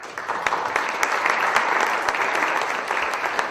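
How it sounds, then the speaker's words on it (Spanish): Audience at a medical ophthalmology conference on laser-assisted cataract surgery gives sustained applause, a dense steady wash of many hands clapping in a hall with no talking over it. "Quisiera pedirles un aplauso para..."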